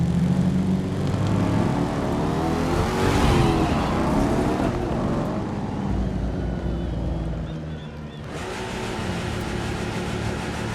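A Porsche GT3 RS in the racing game The Crew 2, its engine roaring loudly and steadily, rising and falling through the revs, with a brief dip before the drone picks up again.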